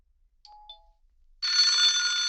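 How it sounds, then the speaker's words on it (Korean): A telephone starts ringing with a sustained, loud electronic trill after a few faint high beeps, steady and close. "그날 오후 부동산에 전화를 받는 금자."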